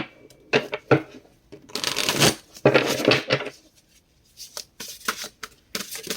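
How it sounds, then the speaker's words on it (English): A deck of cards shuffled close up: sharp riffles and slaps in uneven bursts, with longer flurries in the middle and quiet gaps between. "These cards don't want to shuffle right."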